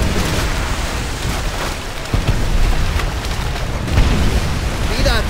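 Loud booming rocket explosions and crackling debris from a beach battle scene in Call of Duty: World at War, layered over a dense roar, with heavy thuds around two and four seconds.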